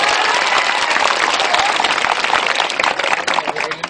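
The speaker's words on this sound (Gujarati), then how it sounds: "જોરદાર તાળીઓ પાડો." A large crowd at an outdoor political public meeting in Pandoli, Anand, bursts into loud, sustained applause of dense clapping that thins slightly toward the end.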